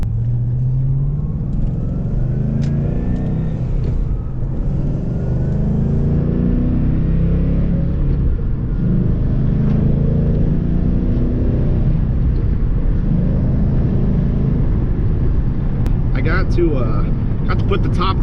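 A Ford Mustang 5.0 V8 on its stock exhaust gives a steady low rumble throughout, with a person talking over it most of the time.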